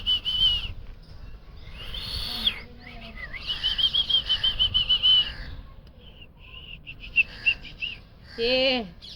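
A person whistles in a park, sending out a series of short and longer tonal notes with pitch bends, ending in a rapid warbling run, close by against a low outdoor background.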